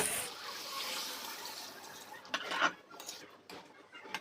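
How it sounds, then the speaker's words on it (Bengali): Water pours into a pot of goat curry with a broad rushing hiss for a couple of seconds, followed by a few clinks and scrapes of utensils. "এবার দিয়ে দেবো জল"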